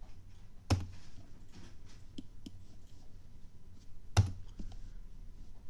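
Two distinct, firm key presses on a computer keyboard, roughly three and a half seconds apart, with a few lighter clicks in between, heard close over a faint low room hum.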